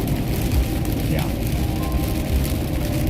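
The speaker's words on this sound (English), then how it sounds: "We're getting a pretty good dousing this morning, though." Steady rain pours down in a heavy morning dousing after a long dry spell, a dense, constant hiss with no breaks across the whole stretch.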